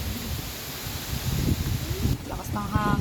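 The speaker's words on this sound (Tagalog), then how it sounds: "Lakas ng hangin, no?" Strong typhoon wind in Lucban, Quezon, Philippines roars and buffets steadily, with some rustling and a few faint, higher sounds near the end.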